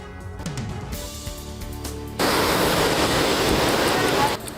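Floodwater pours down from the mountains at Haldwani, Uttarakhand, after heavy rain, carrying mud and large stones. A talking voice comes first, then a loud, dense, steady roar of rushing water cuts in abruptly.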